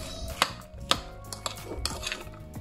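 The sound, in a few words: stirring corn fritter batter with kaffir lime leaves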